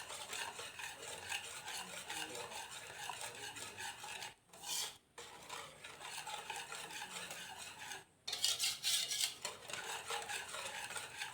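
Flour and rice water batter for a traditional Thai khanom tat dessert stirred in a pot, a continuous close scraping swish with two brief pauses where the stirring stops.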